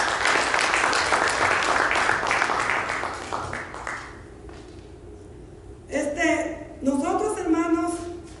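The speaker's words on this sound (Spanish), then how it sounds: "Un aplauso para todos ellos" Church congregation applauds single parents, a steady burst of clapping for about four seconds that fades out before a speaking voice takes over.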